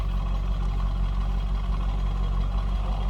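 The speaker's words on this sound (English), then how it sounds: "Doesn't sound like any crazy exhaust in this one." 2004 Chevrolet Corvette coupe idling with a stock-sounding exhaust, heard from behind the car; a steady, even low rumble continues unchanged throughout, fairly quiet and close, with no talking.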